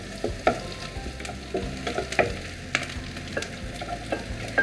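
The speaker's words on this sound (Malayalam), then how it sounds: "ഫ്ലെയിം കൂട്ടി വെച്ച് വളരെ പെട്ടെന്ന് തന്നെ മിക്സ് ചെയ്തെടുക്കുക." Gobi manchurian, a cauliflower dish, is stirred and fried in a pan on a high flame, with steady sizzling and repeated scraping strokes of a spoon, close and clear, with no voices.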